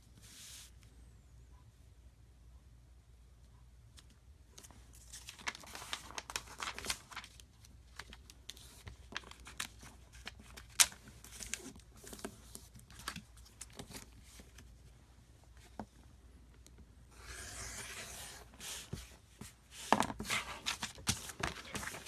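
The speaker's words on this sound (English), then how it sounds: "So I fold over and trim, and I'll do the same thing on the other side." Paper for paper piecing is folded over and trimmed at close range, soft rustles and crisp handling clicks coming in irregular bursts, with busier crinkling stretches midway and near the end.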